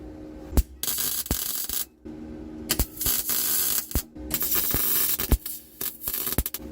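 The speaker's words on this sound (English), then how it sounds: "I'm going to start off tacking this corner here." Short bursts of tack welding on a corner of a track car body panel, a crackling buzz broken by sharp clicks and brief gaps, with a faint hum underneath.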